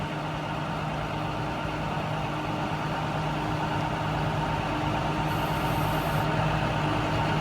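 A steady, moderately quiet diesel idle from an International 4300 digger derrick truck, an even low drone running unchanged with no talk.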